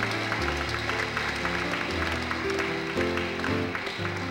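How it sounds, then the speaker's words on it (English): Audience applause at a Catholic diocese ceremony for the canonical erection of the Diocese of Libmanan, honoring its priests. Steady clapping fills the hall under sustained tonal music. "A big round of applause."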